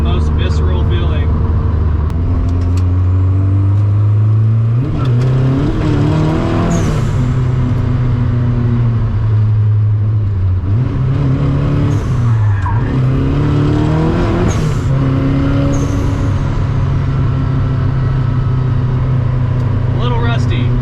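A fully caged Mazda Miata driven on city streets, its engine droning loudly and rising and falling through gear changes, with occasional tire squeal, close and continuous for about twenty seconds, while a voice talks intermittently over it.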